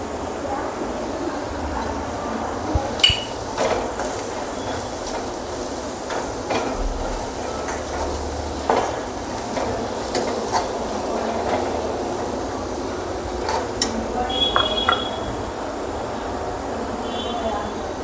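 Sliced onions and gram flour stirred in a pan for an onion-potato kachori filling, heard as a steady scraping, rustling clatter with scattered sharp clinks of the spoon throughout.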